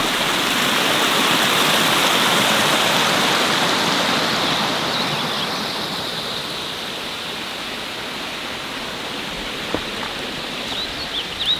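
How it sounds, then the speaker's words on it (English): Three snowmelt streams run past an old mine bunkhouse among trees, giving a dense, unbroken rush of flowing water that is loud at first and softens a little later, with no talking. "So we have three streams running through this location."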